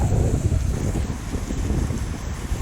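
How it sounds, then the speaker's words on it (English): A small creek waterfall running strongly near the Kern River area, a dense, steady rushing roar close by with wind buffeting the microphone, no voices. "So the waterfall's running pretty good today."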